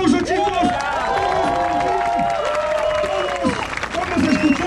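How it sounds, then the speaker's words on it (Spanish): Crowd at the finish of the 2022 Mixteca Oaxaqueña trail race claps and cheers under loud, continuous amplified voices and whoops filling the whole stretch. "¡Vengan los aplausos, chicos!"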